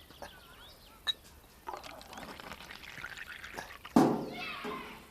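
Hot, boiling meat soup is ladled into a bowl, with a short splashing pour near the end after quieter clinks and faint background sounds.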